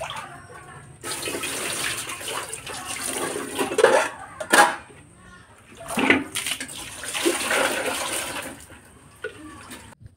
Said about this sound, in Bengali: এখানে জল দিয়ে বাসনগুলো কিন্তু ভিজিয়ে দেবো